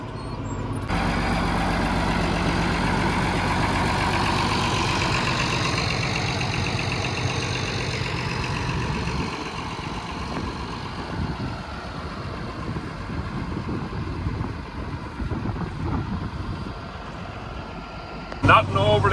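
A tractor's heavy diesel engine idles steadily with a low rumbling drone throughout, loud and close, easing slightly partway through before a brief hiss near the end.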